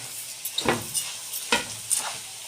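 Thin vermicelli pasta sautéed and stirred in a pot for Egyptian koshari, heard as soft scraping stir strokes with a faint sizzle, a few distinct strokes spaced about a second apart.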